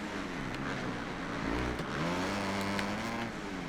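Motorcycle engine revving in the Supercross 5 racing game, rising and falling in pitch as the throttle opens and the bike shifts, steady and fairly loud throughout with no talk.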